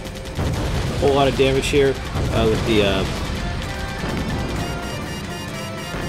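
Machine gun fire in the Blue Dragon video game, rapid bursts of shots and impacts under someone talking, loud in the first half and easing off later.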